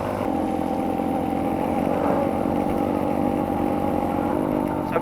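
A motorcycle engine revs steadily and loudly close by, a continuous throaty drone with rising pitch and a light mechanical clatter, no voices.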